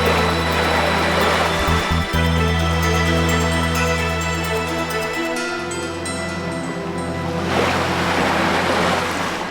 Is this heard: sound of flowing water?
yes